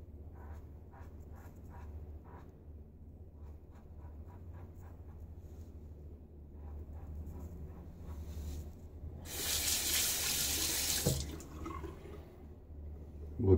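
Tap water gushes while a Schick injector razor is rinsed between shaving passes, a loud steady hiss lasting about two seconds in the latter half, with quiet handling noises before it.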